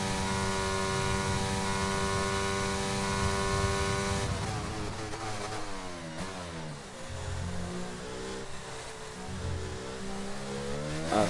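A McLaren race car's engine on a lap of the Belgium circuit in a racing game, a loud, high, steady whine that shifts pitch as the car changes gear and brakes, rising and falling through corners.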